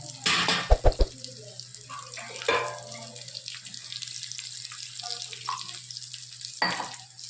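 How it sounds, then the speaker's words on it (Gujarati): Water poured into a potato and tomato curry cooking in a pot, a loud splashing gush near the start with a few clanks, then a quieter bubbling sizzle with utensil scrapes and another brief splash near the end. "રસાવાળી સબ્જી કરવાની છે. પાણી આપણે સારું એવું નાખીશું."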